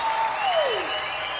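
A large audience claps together in a dense, even wash of applause, with a sliding whistle-like tone falling through it early on.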